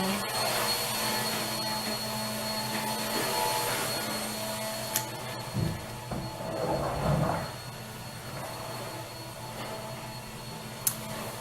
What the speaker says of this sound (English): my mom is vacuuming